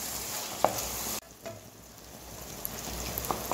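Onion, tomato and bones sizzle steadily in a frying pan as a utensil stirs them, giving a continuous close frying hiss with a few light scraping knocks.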